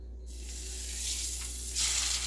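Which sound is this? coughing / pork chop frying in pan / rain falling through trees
pork chop frying in pan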